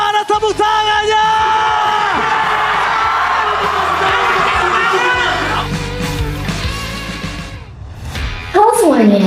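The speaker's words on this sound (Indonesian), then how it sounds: "So, MPL Arena, mana tepuk tangannya?" Loud crowd at MPL Arena, a Mobile Legends esports venue, cheering, yelling and whooping in a sustained roar, with sharp shouts rising near the end.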